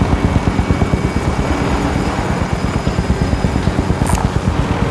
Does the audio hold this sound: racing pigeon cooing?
no